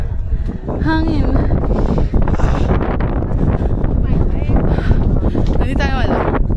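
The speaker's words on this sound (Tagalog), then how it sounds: "Hangin." Gusty wind buffets the microphone on Fansipan mountain in near-freezing cold, a constant loud roar with rustling bursts while people talk over it.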